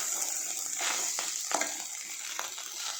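Food seasoned with salt fries in a pan while a spatula scrapes and stirs it in a few distinct strokes over a steady soft sizzle, close up, with no talking.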